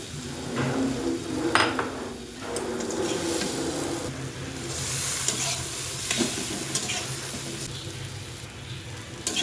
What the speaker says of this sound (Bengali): এবার ব্রোকলি আর আলু দিয়ে দিচ্ছি